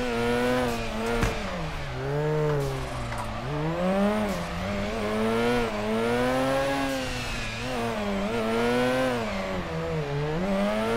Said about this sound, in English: Rotary pops to end this episode off.